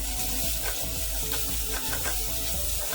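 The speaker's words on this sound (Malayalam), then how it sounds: "ഇനി ഇതിലേക്ക് നമ്മൾ ഈ സ്ലൈസ് ചെയ്ത് അരിഞ്ഞു വെച്ചിരിക്കുന്ന സവാള ഇട്ട് വഴറ്റി കൊടുക്കാം" Thinly sliced onions fry in hot oil for a masala chicken, giving a loud, continuous close-up sizzle with faint stirring scrapes throughout.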